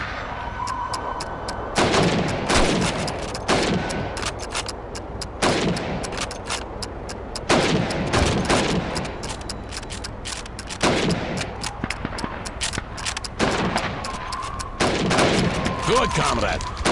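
Rifle fire at helmet targets in Call of Duty 2's Red Army winter war training, repeated loud gunshots every couple of seconds over a steady background rumble of game ambience.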